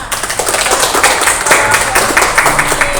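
Several people clap together in a lively, uneven patter that continues steadily throughout.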